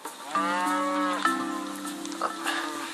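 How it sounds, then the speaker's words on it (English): Dairy milk cows on a farm low loudly nearby, with one long sustained moo followed by another overlapping bellow, then quieter rustling farm sounds. "these are milk cows"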